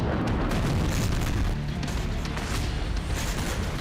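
A Russian strike hits an ammunition warehouse, setting off a loud, sustained booming roar of explosions with dense crackling rumble that stays heavy for several seconds.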